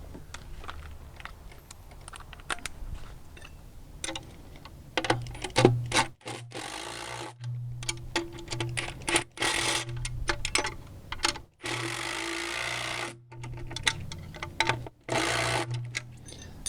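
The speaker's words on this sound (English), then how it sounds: "I've got a driver here." A power driver sends a bolt into a wooden deck stair post in repeated short bursts of whirring, with knocks and clicks of wood and hardware between them, close and fairly loud.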